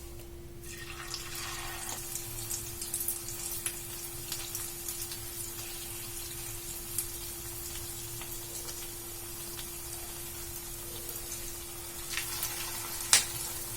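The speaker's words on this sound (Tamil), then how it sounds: "இந்த மாதிரி எடுத்துட்டு நம்ம இப்ப எண்ணெயில போட்டுடலாம்." Shaped homemade dough snacks frying in hot oil in a home kitchen, a soft continuous sizzle with faint crackles and a steady low hum behind it, no talking.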